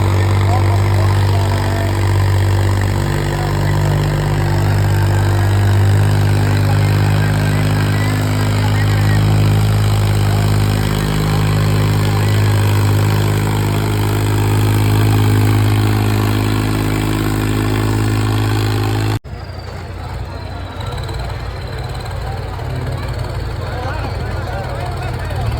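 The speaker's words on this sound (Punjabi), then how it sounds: "ਦੇਖਦੇ ਆ ਟਰੈਕਟਰ ਦਾ ਜ਼ੋਰ" A John Deere tractor engine labours under heavy load, straining to pull a stuck trolley free, a loud steady low-pitched drone that drops and roughens near the end; a voice talks over it.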